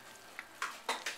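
Short wet squelches and scrapes as chile juice is mixed by hand into tamale masa, a few quiet soft bursts in a quiet kitchen.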